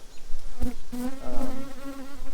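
Honeybees buzz steadily around small nuc hives set beside a larger hive in an apiary, a close, continuous hum with a few louder passes as individual bees fly near.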